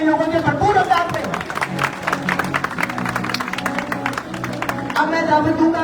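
A crowd claps loudly and continuously throughout a welcome ceremony honouring an ustad at a shagird (discipleship) event, with scattered voices and babble mixed into the dense applause.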